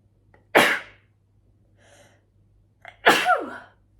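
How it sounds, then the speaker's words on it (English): Two loud, sharp sneezes close to the microphone, separated by a quiet pause with a faint breath. "I'm gonna sneeze."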